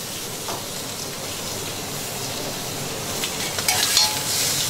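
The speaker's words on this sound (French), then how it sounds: "on jette ça sur la plancha" Food sizzles in olive oil on a hot plancha griddle, a steady bright crackling hiss that swells slightly near the end, with a few faint utensil clicks and no talking.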